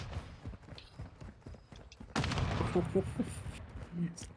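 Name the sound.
gunfire in video game Call of Duty MW2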